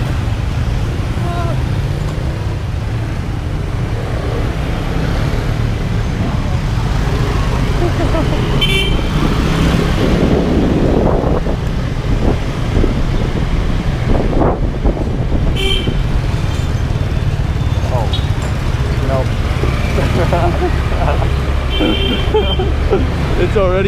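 Busy street traffic in Ho Chi Minh City, Vietnam, with a constant dense roar of motorbikes and cars, scattered horn toots and engine swells, with people talking nearby over the noise.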